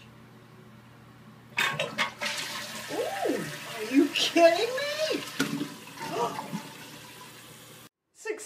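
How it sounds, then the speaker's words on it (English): A toilet flushes after a DIY plumbing repair, with a sudden gush of rushing and swirling water that runs for several seconds, then cuts off. A person speaks over the flush. "I got it to flush"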